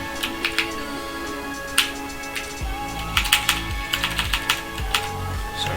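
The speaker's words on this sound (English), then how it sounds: "my keyboard's probably like obnoxiously loud" A loud computer keyboard clatters as someone types code, irregular bursts of close, crisp keystrokes with a few brief pauses, heard alone without speech.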